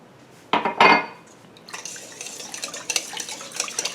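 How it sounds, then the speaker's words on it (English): A whisk beats an egg into challah dough in a bowl, giving a few loud clacks against the side followed by quicker, softer wet stirring and scraping close by. "Okay, beat in your 2nd egg."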